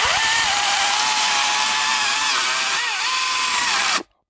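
A power saw, likely a chainsaw, cuts through wood with a loud, steady whine that dips briefly near the end before cutting off abruptly.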